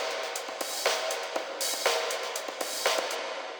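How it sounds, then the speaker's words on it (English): A synth sound run through an Ableton Live auto filter with raised resonance and a long reverb, giving sweeping filtered chords with washy tails; moderately quiet, a few repeated swells with no voices. "So now I have an auto filter followed by a reverb, both contained within this audio effect rack"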